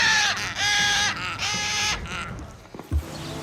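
A parrot calls loudly and close, in several harsh, rasping squawks that come in bursts. A softer clatter and a low thump follow near the end.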